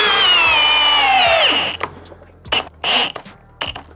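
Milwaukee Gen 4 hammer drill in drill mode at speed 2 driving a 5/16 lag screw: a loud motor whine that drops in pitch as it bogs down and stops, then three short bursts of the trigger.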